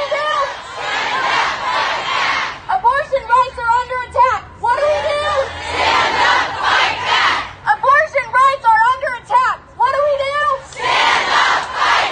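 A crowd at an abortion-rights rally in Portland chants a call-and-response slogan in loud, rhythmic bursts, a leader's amplified voice alternating with the crowd's shouted replies.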